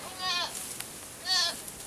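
A goat bleats twice, two short wavering cries a second apart, fairly close in a quiet outdoor setting.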